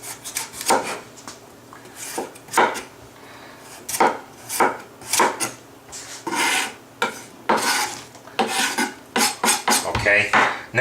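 A knife cuts and peels a butternut squash in a home kitchen, giving a series of close, crisp rasping scrapes and chops at an irregular rhythm with short pauses between them. No one talks.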